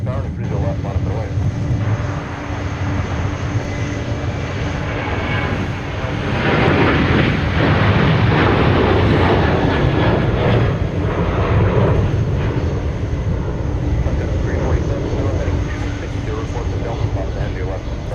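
A jet airliner rumbles as it taxis at Minneapolis–Saint Paul airport, a loud, continuous broadband roar that swells slightly midway, heard from an outdoor viewing area with tower radio chatter in the background.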